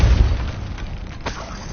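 A Depulso spell cast in the Hogwarts Legacy video game, a loud booming burst up front that settles into a rumbling tail, with a smaller second pop about a second later.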